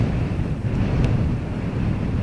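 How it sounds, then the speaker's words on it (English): Wind buffets a camera microphone beside the north runway at Dublin Airport, a loud, steady low rumble with no talk. "You can kind of feel nearly in the camera the wind when we face that direction. Creates that little bit of shake."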